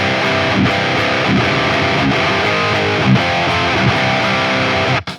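Distorted electric guitar through an amp with the pre-gain EQ switched off, playing a dense, saturated riff with a rounder, looser low end, loud and alone before stopping sharply at the end.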